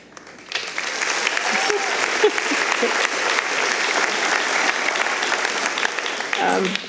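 Sustained applause from an audience at an ArtPrize finale awards ceremony, greeting a student film prize winner; steady dense clapping fills the whole stretch, fairly close and loud, with a brief faint voice near the end.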